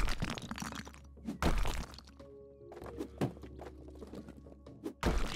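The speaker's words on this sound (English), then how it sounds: "I do love smashing stuff." Smashing sounds from the House Flipper video game, with several sharp broadband thunks and cracks of objects being broken at irregular intervals over a low steady hum, with no talk.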